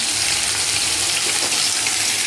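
Taro frying in a pan for a fish curry, a loud continuous sizzle close up that stops abruptly at the end.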